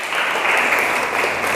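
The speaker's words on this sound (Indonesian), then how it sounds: "tepuk tangan dong untuk temannya" Classroom applause for a student who answered at the front during a biology lesson: a brief, dense burst of many hands clapping at once, steady and fairly loud throughout.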